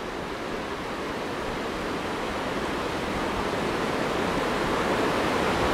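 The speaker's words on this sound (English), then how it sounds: "just a little ways up that creek is Tumalo Falls" Steady broadband rush of Tumalo Falls, a waterfall on a creek near Bend, Oregon, roaring continuously and evenly throughout with no voices or other sounds.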